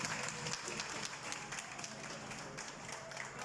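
Faint, somewhat distant applause from guests at the inauguration of a nursery school, Centre d'éveil Les Mirabelles in Goodlands, Mauritius, scattered claps blending into a soft steady patter for a few seconds.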